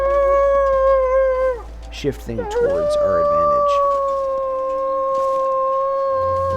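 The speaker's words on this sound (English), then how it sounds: "It does sound like there's like 3 wolves right here." Wolves howling in the video game The Long Dark, long sustained howls that bend and waver, rising loud and near, with someone speaking briefly over them.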